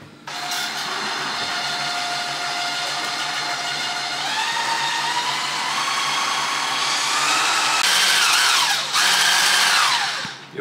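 An electric mixer whirs loudly and continuously as it whips eggs and sugar for a meringue-topped charlotte cake, its pitch shifting as the mixture thickens; no one speaks.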